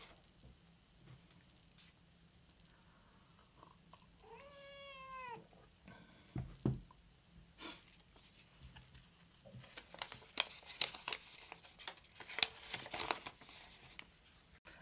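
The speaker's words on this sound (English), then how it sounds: "There's the cat again, wanting to get involved." A cat meows once, a short wavering call near the microphone, amid quiet clicks, taps and rustling handling noises from a workbench where a Game Boy is being recapped and soldered.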